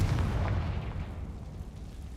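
A blasting spell fired in a wizarding video game lands with a dull, booming explosion that rumbles low and fades over about two seconds, with no talking.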